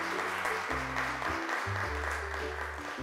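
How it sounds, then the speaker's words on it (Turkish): Applause for children after a matching game on a children's TV show, a steady dense clatter of clapping heard alone under sustained tonal music notes throughout. "Alkışlarımızı gönderiyoruz sizlere."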